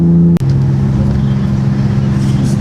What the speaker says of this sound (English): Start revving.